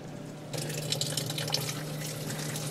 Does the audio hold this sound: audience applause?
no